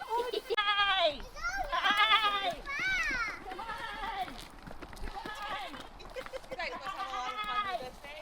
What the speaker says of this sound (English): goat talking